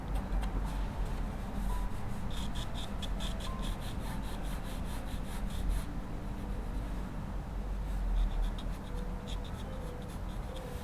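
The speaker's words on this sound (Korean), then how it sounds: "연필 자국이 남지 않도록 꼭 스치듯이 연한 스케치로 해주세요" A graphite pencil sketching on paper for a portrait drawing, with soft, quiet scratchy strokes coming in rhythmic bursts, close up and alone with no talking.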